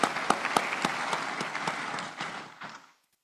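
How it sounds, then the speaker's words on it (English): Applause at the close of a speakers' session at an African conference on water, a dense burst of clapping that fades out over about three seconds. "Let's give them a round of applause"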